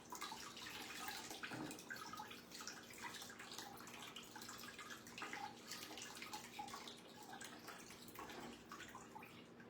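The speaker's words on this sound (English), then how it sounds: "I just dribble a nice little stream of water all over the floor." A thin stream of water dribbles and splashes steadily onto a floor during paper marbling, a continuous close trickle with small spatters and no speech.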